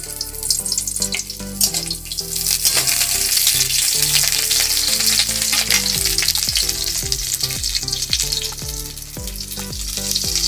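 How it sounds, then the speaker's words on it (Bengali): Bengali sajne data (drumstick pods) frying in hot oil in a village kitchen kadai, a loud steady sizzle with repeated scraping stirs throughout, no talking. "তেল গরম হয়ে গেছে। দিয়ে দেবো সজনে ডাঁটা"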